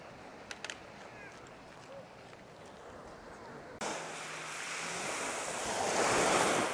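Sea waves wash onto a pebble beach at a hotel in Kemer, Turkey, first faint with light wind buffeting, then a sudden louder surge of surf that keeps building.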